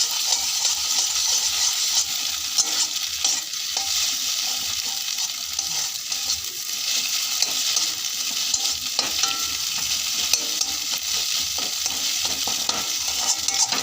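An egg fries in a pan under a continuous, loud sizzle, with frequent stirring strokes and light scrapes throughout and no talking.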